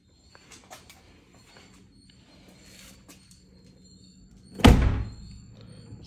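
A soft-close door on a 2023 BMW X7 M60i pulls shut with one solid thunk after a few faint clicks and taps in a quiet cabin.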